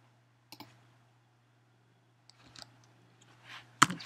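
Computer keyboard keys tapped at a desk during CAD work, a few faint isolated clicks over a quiet hum, ending in one sharper key press.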